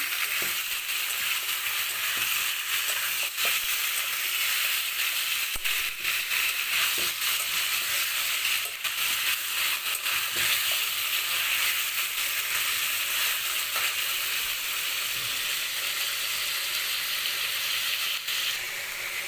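Chicken pieces frying in hot oil give a loud, steady sizzle that holds without a break, with faint clicks from stirring now and then and no voices.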